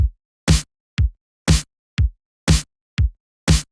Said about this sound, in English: I'm going to go ahead and add 1 extra snare hit at the end of the pattern like this.